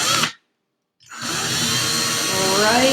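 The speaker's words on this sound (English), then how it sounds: "and you're going to drill" A power drill bores into the center of a wood slice, a steady close whirring grind that rises slightly in pitch, after a brief burst and a moment of silence.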